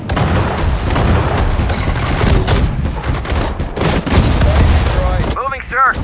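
Rapid bursts of gunfire and booming shots from a World War II battle at Guadalcanal in the Pacific-war strategy game Sudden Strike 4, dense and continuous, mixed with unit voice chatter.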